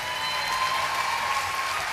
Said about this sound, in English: please a nice round of applause for the musicians who are up here